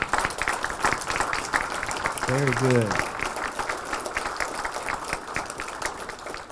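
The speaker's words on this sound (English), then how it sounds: "give them a round of applause" Students receive a round of applause from an audience at a school recognition event, a steady dense patter of many hands clapping throughout, with a brief spoken remark partway through.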